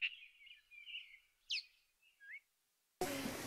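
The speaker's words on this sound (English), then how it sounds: "But any other times you can hear birds when you get up in the morning." Birds sing outdoors in the morning in the Southeast, giving clear whistled phrases and a rising chirp against a quiet background before a sudden burst of noise at the end.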